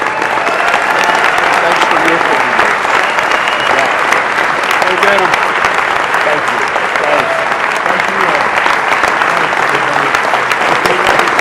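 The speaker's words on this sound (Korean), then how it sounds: "그의 이름을 부를 때 이런 환호를 받습니다." A large crowd at a charity gala applauds and cheers loudly for an American cardinal, a dense continuous wash of clapping with shouts woven through.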